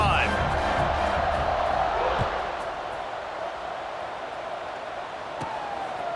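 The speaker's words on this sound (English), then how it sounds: "this crowd is feeling themselves after that last drive" A college football stadium crowd at Delaware versus North Texas roars loudly, then settles into a broad, steady murmur, with a commentator's voice talking over it.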